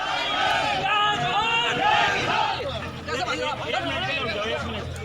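Protesting farmers gather on a highway, a loud, dense crowd of shouting and chanting voices filling the space, with overlapping calls that swell and fade throughout.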